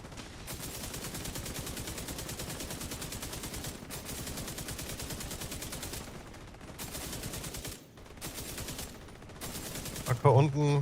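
Sustained automatic gunfire rattles in The Division 2 in near-continuous bursts with brief pauses, fairly quiet overall, as players talk over it.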